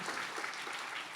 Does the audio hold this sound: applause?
yes